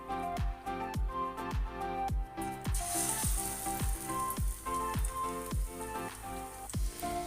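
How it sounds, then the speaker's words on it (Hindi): Onion and green chili pakoras sizzle steadily in hot oil, a dense crackling fry with repeated soft plops and clinks as batter pieces are dropped in one after another, no voices over it. "अब मैं प्याज और सब्ज़ मिर्चों के पकौड़े बनाने लगी हूँ।"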